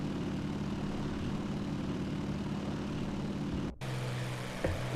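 Several SBD dive bomber engines drone in the DCS flight simulator, a steady close propeller hum that cuts out abruptly for a moment and then resumes with a slightly lower tone.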